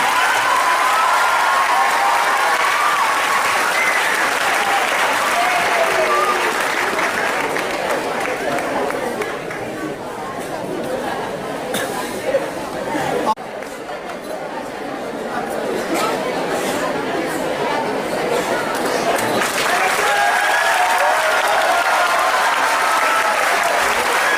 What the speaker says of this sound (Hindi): जोरदार तालियों में स्वागत करें।